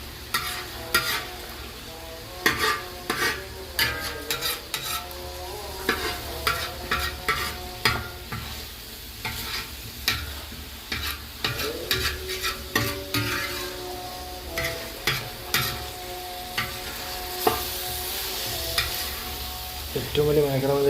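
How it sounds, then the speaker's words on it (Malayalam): Wayanad pothum kaal being stirred in a frying pan with steady sizzling underneath, a spatula scraping and clacking in a brisk, repeated rhythm, close and fairly loud with no speech. "അടി പിടിക്കാതെ ഇങ്ങനെ ഇളക്കണം"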